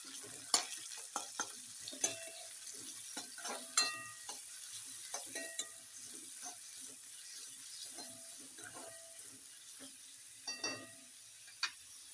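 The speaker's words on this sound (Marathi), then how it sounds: "छान कांदा तळून घ्यायचा" Onion frying in hot oil for tomato chutney, with steady soft sizzling and the repeated scrape and clatter of a spoon stirring the pan, close and alone without any talk.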